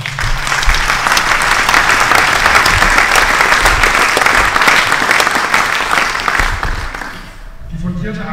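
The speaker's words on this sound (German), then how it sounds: "Das ist ein Applaus." Loud, sustained applause from an audience honoring judoka Eduard Trippel, Olympic medalist at Tokyo 2021, rolls on for several seconds before tapering off, with a voice starting to speak at the end.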